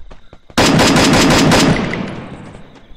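Automatic gunfire erupts in the Free Fire battle royale game. A close, loud burst of rapid machine-gun shots follows a quiet start, then fades into a lingering tail.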